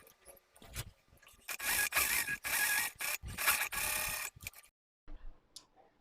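Sewing machine stitching an elastic fabric waistband with stiffener interfacing, sounding in several close bursts of mechanical whirring and clatter separated by short pauses, then a brief quieter burst at the end.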